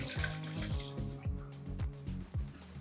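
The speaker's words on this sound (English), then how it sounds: "And I'm going to add 4 cups of chicken stock." Chicken stock poured from a container into a pot of drained water on the stove for a Nova Scotia hodge podge, coming out in a steady run of rhythmic glugs and splashes, close and fairly soft.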